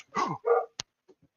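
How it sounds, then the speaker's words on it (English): A dog barks twice in quick succession nearby, followed by a sharp click and a couple of faint soft sounds. "Will you stop barking?"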